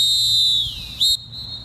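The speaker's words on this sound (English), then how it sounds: "Just give me the whistle and then pause that snap." A single loud, sustained whistle is blown during a training drill. It holds a steady pitch, dips briefly, then gives a short sharper burst before fading, with no talking.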